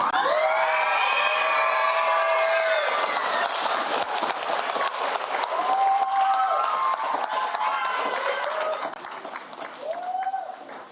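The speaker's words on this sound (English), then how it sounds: "You're not supposed to cheer louder for him than me." An audience at a Los Alamitos school district board workshop applauds and cheers. A dense, loud wash of clapping runs throughout, with shrill whistles and whoops rising over it, and the noise eases slightly near the end.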